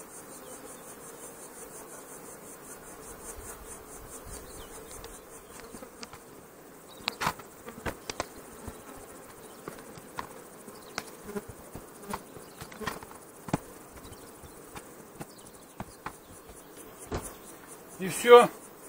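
Honey bees buzz steadily around hive boxes stacked with eight-frame bodies full of honey, a continuous close insect hum with scattered clicks and knocks, rising into a louder burst near the end.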